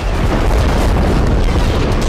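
An explosion demolishes the Al Shifa hospital building in Gaza, a loud, dense, continuous roar of rumbling and crackling debris filling the whole stretch without a break.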